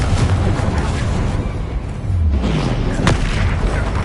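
A Confringo blasting spell from Hogwarts Legacy erupts in a loud, booming explosion with rumbling low-end and a sharp crack near the end, continuous and dense throughout.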